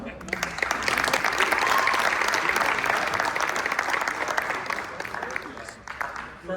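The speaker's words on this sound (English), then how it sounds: "how about another round of applause for our team and our partners here?" Audience applause at a Board of Education meeting, steady and fairly dense for several seconds, then thinning and tapering slightly toward the end, with a few voices mixed in.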